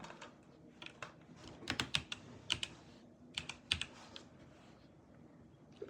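Quiet clattering of keys on a computer keyboard, irregular bursts of fast typing with brief pauses, close by and without speech.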